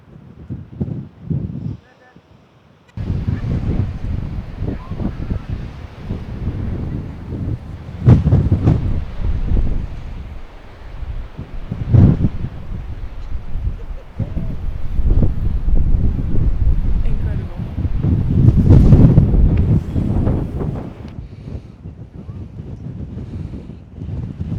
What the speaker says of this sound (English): just sitting here listening to mostly the wind, but listening to the waves from far up